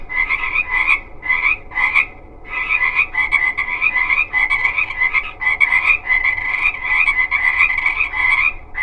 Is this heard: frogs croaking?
yes